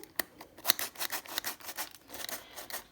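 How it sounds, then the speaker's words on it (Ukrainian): Flour being sifted through a sieve for honey-ginger cookies, a close series of soft rhythmic scratchy shakes and rasps coming in quick uneven bursts, no talking. "Тим часом я просію борошно"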